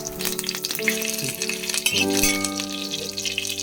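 Fenugreek seeds and curry leaves crackle and sizzle in hot oil, a close, busy frying noise with clinking and scraping of a utensil against the pan and steady background hum.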